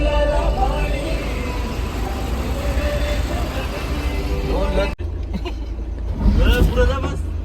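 Cars crawl in a Mumbai traffic jam on a Ganpati festival day, giving a steady, close rumble of engines and road noise with voices talking over it.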